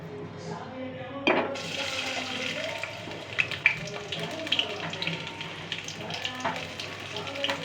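Chopped onion hitting hot mustard oil for a country chicken curry, a sudden hiss that settles into steady close frying with scattered crackles, a voice speaking over it.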